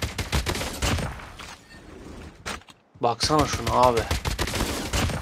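AK117 rifle fire in the mobile game Call of Duty Mobile rattles out in rapid bursts, briefly pausing before resuming, while someone speaks over the shooting.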